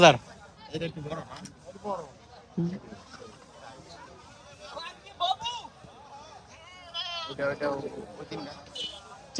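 Goats bleat several times at irregular intervals, close by, while people talk over one another in a busy crowd at a livestock market in Narayanganj.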